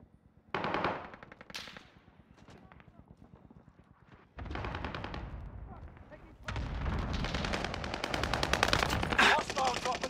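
Gunfire in Call of Duty on the Fortune's Keep map in Rebirth: rapid automatic bursts crackle in clusters, swelling into dense, loud, continuous volleys toward the end, with voices heard beneath.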